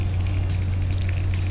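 Water poured into a cooking pan with a steady, even splashing pour and a low hum beneath, brief and close.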